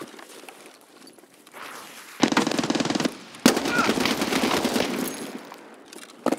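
Machine gun fire rings out in a video game, a quieter stretch giving way to loud sustained bursts of rapid automatic shots, close and dominant, with a brief pause between volleys.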